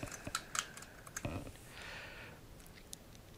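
A password is typed on a computer keyboard: soft, quiet clicks of keys, a short run of taps at first and a second small cluster, then faint hiss with a few scattered clicks and no voice.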